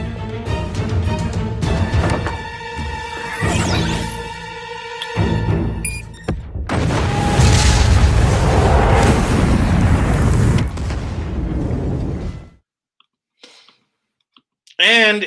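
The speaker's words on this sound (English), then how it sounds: "And in this explosion, Kyle was supposed to die" An explosion in the Chucky TV series finale, heard as a sustained loud roaring blast after a stretch of tonal music and clatter. It cuts off abruptly into near silence before a brief final burst.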